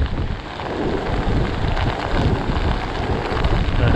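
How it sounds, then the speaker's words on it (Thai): Heavy rain and rolling thunder on a Mekong River bank during a storm, a dense steady roar of downpour with low rumbling and buffeting wind noise on the microphone throughout, loud and close. "มีแต่เสียงฝนนะครับ"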